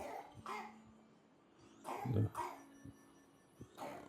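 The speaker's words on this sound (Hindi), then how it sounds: "खांसी ही जा रहा है" A child's few short, husky coughs come in bursts, close by, with quiet pauses between them and faint background noise.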